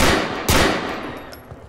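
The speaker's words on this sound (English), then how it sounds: "I got two people firing at me down here." Rapid bursts of gunfire aimed at the player in the video game GTA IV during a police patrol, a sharp loud volley early on followed by fainter scattered shots.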